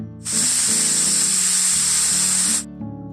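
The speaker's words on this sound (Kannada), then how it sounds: "ಕುಕ್ಕರ್ನ ಮುಚ್ಚಳ ಮುಚ್ಚಿ ಎರಡು ವಿಸಲು ಕೂಗಿಸ್ಕೊಳ್ಳೋಣ" A pressure cooker of chicken biryani lets off one loud hissing whistle of steam that lasts a couple of seconds, then cuts off, leaving a low hum of the stove.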